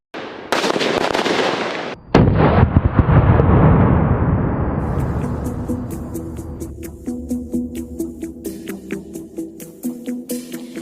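Automatic gunfire during police academy cadet training: heavy booming blasts at first, then a long run of sharp, rapid repeated shots that gradually fade, heard loud and close with no talking.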